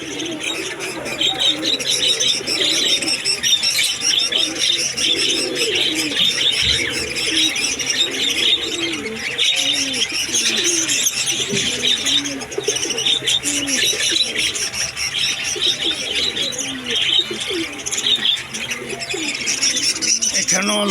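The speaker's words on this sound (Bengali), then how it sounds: "প্রচুর পাখি এখানে।" Many caged birds calling at once at a bird market, cockatiels, lovebirds and budgerigars of various breeds, a dense continuous mix of chirps, whistles and coos close by, with faint human voices underneath.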